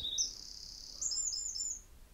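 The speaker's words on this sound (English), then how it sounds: "Wow, that is a very loud bird." A loud bird sings alone, with a sustained high whistling note followed by a quick series of bright chirps over faint room noise.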